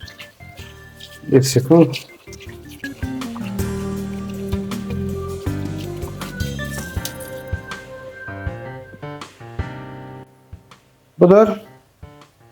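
A shaving brush rinsed under water, with squelching, dripping and splashing bursts near the start and end, close and moderately loud, while someone talks in between.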